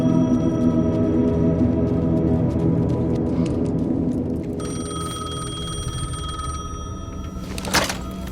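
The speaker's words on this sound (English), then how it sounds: "The payphone was ringing." A payphone in the video game Alan Wake 2 rings with a loud, continuous electric bell trill over a dense low ambient hum, followed near the end by a brief thunk.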